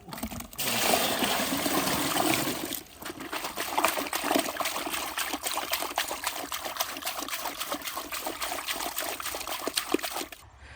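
Water pours and splashes into a village pond where fish are being released, a steady gushing trickle that runs almost without a break.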